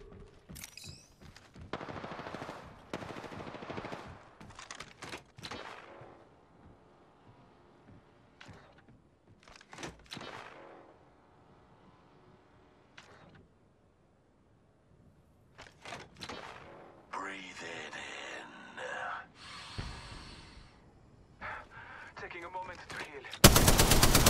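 Bursts of automatic gunfire in the Apex Legends battle royale game, rapid rattling volleys repeated across the clip with short gaps, loud and close, plus some brief game voice lines and a sharp burst at the end.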